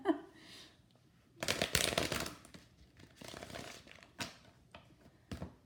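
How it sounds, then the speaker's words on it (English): A deck of tarot cards is shuffled close by in a few quick bursts of riffling and flapping, separated by brief pauses and a soft thump or two. "Whoops. Well, that was a crappy shuffle."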